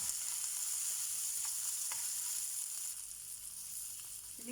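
Chana dal, urad dal, chillies and ginger sizzle in hot oil for lemon rice, a steady close crackling fry with faint stirring scrapes and no talking.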